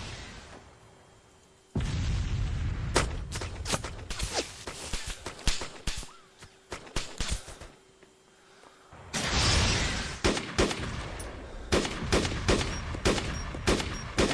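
Players trade gunfire in a match, with sharp single shots and quick bursts cracking out irregularly, some loud and close, others thinner, over a low background hum with brief quiet gaps.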